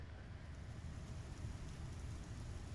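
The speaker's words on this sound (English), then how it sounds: "You can hear the rain. It's raining in the hangar right now." Rain falls inside a hangar in the Star Citizen video game, a faint, even hiss that stays steady and unbroken from start to finish.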